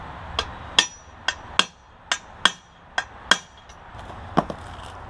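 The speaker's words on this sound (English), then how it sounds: "I'm going to come inside here and hit it." Sharp metallic hammer blows ring out on a chisel driven against a car's front control arm bushing, about nine separate strikes at an uneven pace, each a loud close crack with a brief ringing decay.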